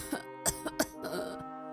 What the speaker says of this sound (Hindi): तुम्हारी खांसी फिर से बढ़ गई है क्या